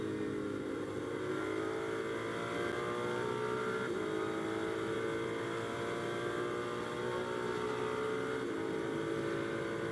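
Onboard a GT race car at Spa-Francorchamps during a 24-hour endurance race, the engine drones loudly and continuously, with harmonic pitch changes as gears shift through a corner.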